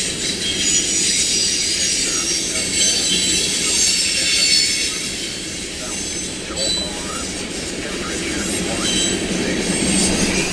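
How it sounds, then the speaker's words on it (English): A Via Rail passenger train passes on nearby tracks with a loud continuous rumble, grinding, and high wheel squeal throughout. "So it sounds like that Via is coming on the other side."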